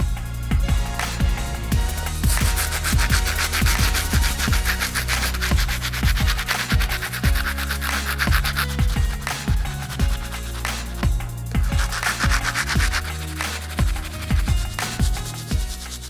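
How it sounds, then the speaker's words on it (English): A stiff bristle brush scrubs shoe soles with cleaning solution, giving a steady run of rough, close scratchy strokes over about sixteen seconds with no talking. "The first brush we're gonna get started with is the stiff bristle brush to clean up these soles."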